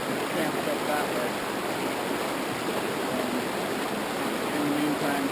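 A creek in a deep Oregon coastal canyon flows with a constant broadband rush, loud and close, holding steady throughout with no other sounds breaking through.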